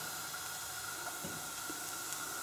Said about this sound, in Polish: a ja na rozgrzaną patelnię wrzucam kawałek masła, wrzucam cebulkę